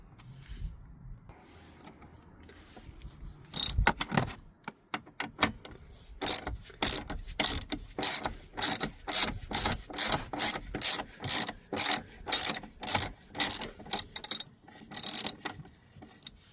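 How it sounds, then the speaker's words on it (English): Ratchet fitted with a number 50 Torx bit unscrewing a bolt on a Dodge Grand Caravan passenger seat track, with a long run of evenly spaced, crisp clicks close up. "I'm gonna be using Torx bit number 50 with a ratchet. You can start unscrewing it counterclockwise."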